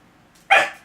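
Oreo the dog lets out a single loud, close bark after a near-silent moment, with a short lead-in and a fading tail.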